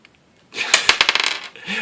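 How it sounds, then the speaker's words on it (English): Dice tumbling across a hard tabletop during a tabletop wargame, a quick clatter of several sharp rattling impacts over about a second, close and loud, followed by a soft settling sound. "Roll the dice, Bobo."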